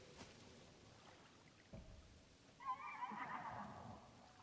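A Satori in Zelda: Tears of the Kingdom gives one drawn-out, shimmering horse-like whinny that swells partway through and fades, preceded by faint thuds over a quiet ambient bed.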